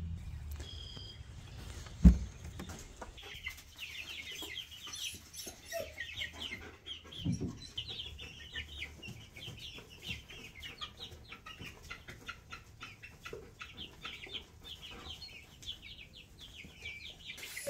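A barnyard flock of Easter Egger and barred rock chickens clucks softly at a distance, scattered low calls continuing throughout with one sharp knock early on.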